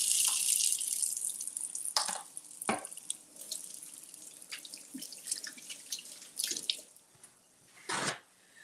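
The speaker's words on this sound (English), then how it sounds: "Let me wash my hands." Hands are washed at a sink under a running tap, with a steady close hiss of flowing water and scattered splashes and drips as the hands move through the stream.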